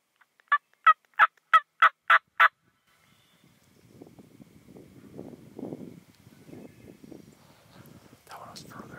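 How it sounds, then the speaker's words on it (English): A wild turkey in the Wisconsin woods gives a quick run of seven sharp, evenly spaced gobbles. Quiet rustling and soft whispering follow. "I'll get him to gobble one more time."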